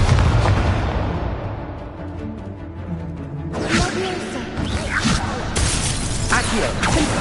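Incendio fire spells cast in the Hogwarts Legacy video game: after a rumbling lull, a sudden fiery whoosh bursts in, followed by several more crackling, booming surges of flame.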